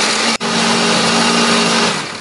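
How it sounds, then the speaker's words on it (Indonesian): A kitchen blender grinds spice paste for Indonesian soto with a loud, constant high whine and a steady motor hum. There is one very brief dip in the motor early on, and the noise continues unbroken to the end. "Baru setelah ini kita akan haluskan menggunakan blender."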